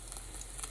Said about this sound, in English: So we're gonna fry this up for a second.